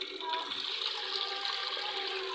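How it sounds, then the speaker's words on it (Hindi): Water running steadily along a narrow street in Dera Ismail Khan while it is being cleaned, a continuous faint trickling wash heard from close by, with no talk. "तो कोई किसी का पानी भी आ रहा है इधर"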